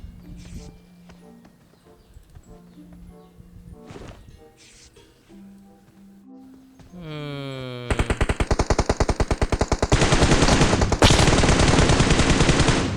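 Gunfire in the mobile battle royale game PUBG Mobile, with scattered single shots and engine-like tones early, then rapid sustained automatic bursts that grow loud and dense toward the end.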